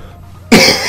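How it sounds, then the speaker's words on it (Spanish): A single sharp cough from a man with a cold bursts out after a brief quiet moment, close and loud. "perdón por la tos."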